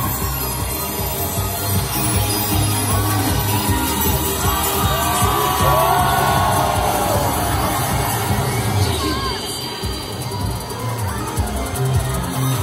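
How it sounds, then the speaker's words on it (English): An audience at an Ultraman stage show cheers, yells and whoops in a sustained, loud crowd roar with scattered shouts and bangs, voices babbling throughout. "Everyone, raise your cards up high and cheer for Ultraman."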